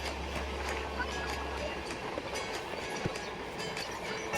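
The Shaktipunj Express heard from inside a sleeper class coach, a steady rumbling run with faint wheel clatter and a low hum easing off early on, under quiet background chatter.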